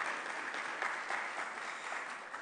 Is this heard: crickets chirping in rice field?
no